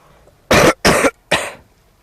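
A person gives three loud, close, harsh coughs in quick succession, the last slightly longer, with near silence between them.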